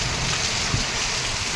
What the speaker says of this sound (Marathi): कारण खूप जोराचा पाऊस आहे.